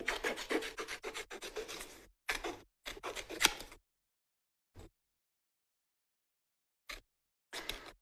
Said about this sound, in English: let's just grab our scissors and cut out these 2 flowers from here very quickly